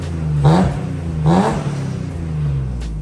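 A BMW E34 with an S52 engine and full stainless exhaust revs twice in quick sharp blips, each rising and falling over a rumbling idle, close and loud, then settles back to a steady burble.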